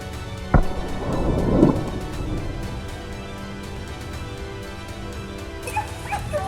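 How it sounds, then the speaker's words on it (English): Hunting dogs bark during a wild boar chase on a mountainside, with a few scattered barks and yips over a constant noisy outdoor background. One sharp bang-like burst stands out near the start. "Shouts and barking echoed across the mountain, a sure sign that a dramatic chase was unfolding."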